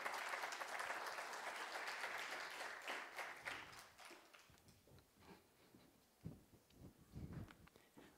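Audience applause at a business report launch event in Turkey, a dense sustained wash of clapping that thins out over the seconds into scattered individual claps.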